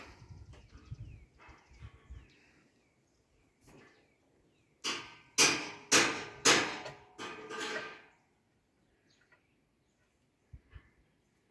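Metal hammer blows on a combine harvester's threshing drum in a field: a run of five or six sharp, ringing strikes in fairly quick succession, with quieter scattered knocks before and after and no talk.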